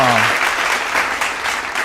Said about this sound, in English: Let's give a round of applause for the ladies holding their ground.